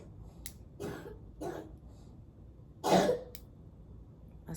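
A young boy coughs as he wakes up: a handful of short, dry coughs spaced irregularly, with one louder burst near the middle, heard fairly close in an otherwise quiet room with no talking.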